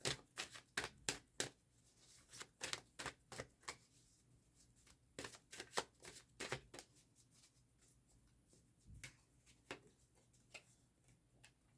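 Tarot cards from a Goetia deck shuffled by hand in a quiet room, a long run of sharp, crisp riffling snaps in irregular bursts, close and clear with no voices.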